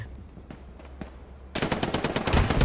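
Machine gun fire in a multiplayer shooter, Division 2: a few distant single shots, then a loud, rapid burst of automatic fire close by.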